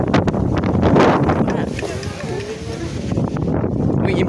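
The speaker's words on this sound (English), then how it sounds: "It's so freaking windy outside." Gusty wind buffets the microphone outdoors, roaring unevenly while a person talks over it.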